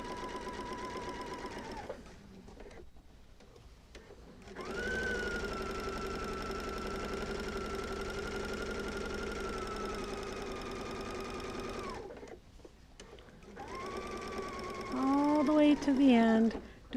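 A sewing machine runs in long steady stitching bursts while sewing down the middle of a quilt's sashing, with short pauses between runs and a brief final run of tiny locking stitches near the end.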